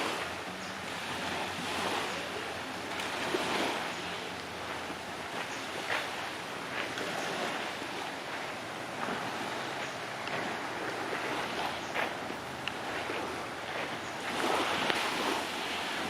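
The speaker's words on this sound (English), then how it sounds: "you go down some steps and come out to your own little beach" Waves washing onto a small beach at Railay, Thailand, a steady, soft surf wash with gentle swells, some wind rumbling on the microphone, and no voices.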